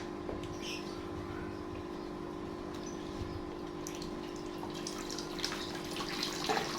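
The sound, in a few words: water draining out through porous plant growing medium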